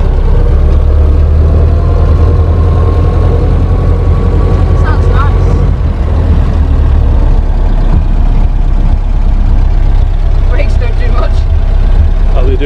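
A 1930 Ford Model AA truck engine running as the truck rolls off, a loud constant low rumble and drone close by, with people talking over it.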